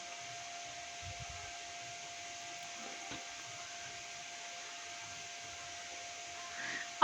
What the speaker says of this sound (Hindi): अब इसको बंद करके हमने अच्छे से इसको कर लेना है ब्लेंड